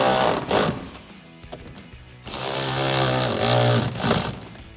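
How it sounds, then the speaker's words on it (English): A powered tool runs an 8mm socket to tighten hose clamps on a cold air intake install, giving short whirring bursts at first and then a longer, louder buzzing run with a rising pitch. "you can take an 8mm socket to tighten these down"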